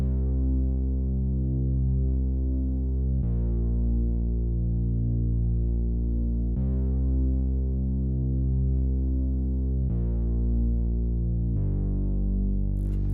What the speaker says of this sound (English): I loaded up this bass preset that I made recently, copied the root notes of the chord progression, and this is how it sounds.